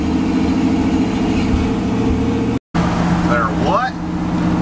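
A 1966 Chevy C10 pickup cruises steadily along back roads, its engine drone and road rumble continuous and loud, with a brief dropout partway through.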